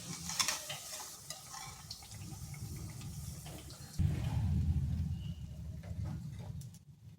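Semolina and yogurt snack pieces fry gently in oil in a home kitchen, giving a soft, steady sizzle with intermittent stirring and scraping that grows a little louder midway.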